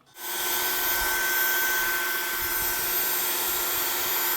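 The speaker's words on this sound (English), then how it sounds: "And we have Vacuum." A vacuum cleaner motor whirs loudly and steadily after a quick start-up, holding a constant droning hum with a high whine on top; a foley sound sample.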